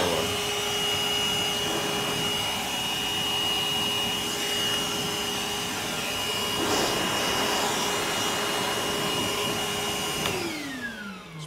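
A Milwaukee M18 2-gallon cordless wet/dry vacuum runs steadily, blowing air with a loud, continuous high-pitched whine and rushing roar before the motor winds down at the end.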